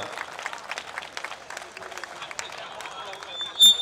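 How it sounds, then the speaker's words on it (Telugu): An audience claps in a dense, continuous patter of many hands, with voices talking over it and one louder clap near the end. "చప్పట్లు కొట్టాలి ఒకసారి"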